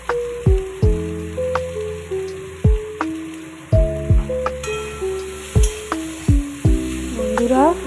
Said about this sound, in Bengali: এবার বাকি সবজিগুলো দিয়ে দেবো।